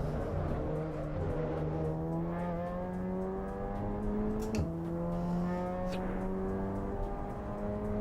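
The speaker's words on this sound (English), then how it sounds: "I like the engine sounds." Race car engine in the Assetto Corsa Evo sim racing game, revving steadily upward through a gear with a sharp shift partway, then climbing again, loud and continuous with faint tire noise.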